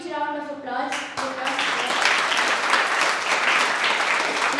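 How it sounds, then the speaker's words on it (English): Audience applause at a Rotary Club cyber safety awareness workshop, rising out of a speaker's voice in the first second and settling into steady, dense clapping from a crowd for several seconds. "I give a huge round of applause to"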